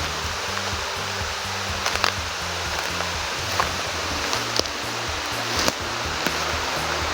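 Water pours over a waterfall in a steady, close rushing roar, with occasional faint clicks and thumps on top of the continuous flow.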